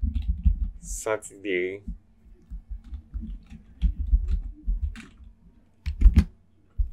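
Fingers tap out quick bursts of clicks on a computer keyboard, close and fairly soft, while a person talks intermittently over the keystrokes.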